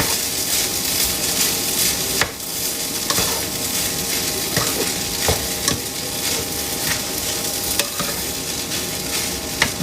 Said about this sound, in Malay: Tengoklah kejadian nasi goreng corn beef I.